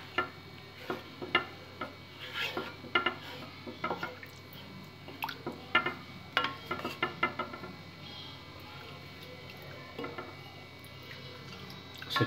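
Spoon stirring egg curry gravy in a pan, a series of irregular scraping clacks and knocks against the metal, in bursts separated by short pauses, fairly faint and close.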